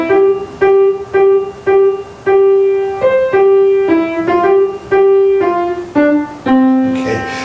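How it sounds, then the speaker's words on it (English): At a jazz orchestra masterclass, a major third interval is played as a steady sequence of clear, sustained pitched notes. Each note rings and decays before the next, loud and close, with no talking over it. "that's the sound of the major third."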